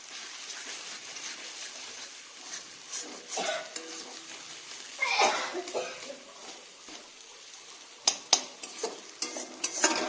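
Chicken masala with tomato and salt being stirred and fried in oil, giving a steady low sizzle broken by scraping stir strokes and a few sharp clinks near the end, no voices.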